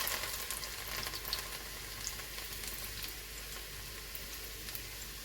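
Chopped garlic fries in the oil left after frying fish for chilli fish, a soft, steady sizzle with faint crackles, heard fairly quietly from a little distance.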